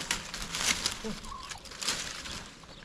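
Turkeys gobble in a village garden, a few short rapid warbling calls amid clucking fowl, fairly close, with light background noise.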